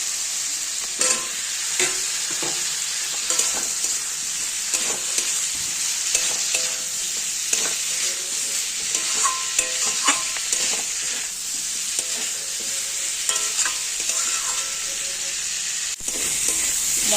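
Fried potatoes are stirred in a hot pan for a Bengali potato curry, giving a continuous close sizzle with repeated scraping and clattering stirs over about seventeen seconds. There is no talking.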